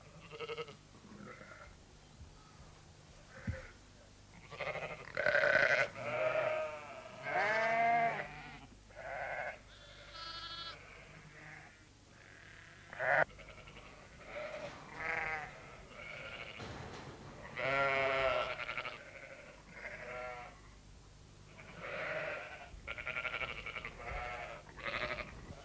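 Lambs bleating in a sheltered farm pen, a string of high wavering cries with several overlapping at once, fairly close and loud, with brief quieter gaps between calls and no talking.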